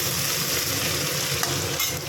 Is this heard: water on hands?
no